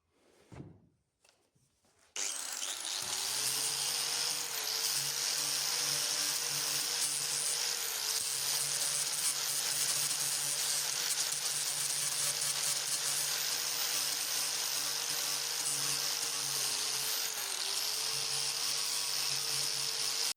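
A power sanding disc smooths the edges of a wooden shashlik board, a steady high whine with a rough grinding layer running continuously after a brief quiet start, with slight dips as pressure shifts; no speech.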